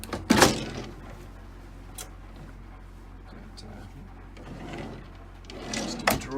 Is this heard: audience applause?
no